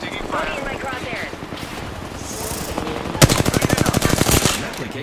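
Gunfire in Apex Legends, a loud, rapid automatic burst of evenly spaced shots near the end, preceded by softer in-game effects and voices talking over the action.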